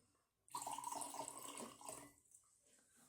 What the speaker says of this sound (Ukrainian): Якщо ми зільємо трішечки води